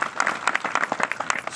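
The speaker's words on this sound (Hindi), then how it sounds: "मैडम के लिए तालियां बजाओ।" Audience applause fills a tribal community gathering at Bhimashankar, a dense, steady patter of many hands clapping close by for under two seconds, with no talk over it.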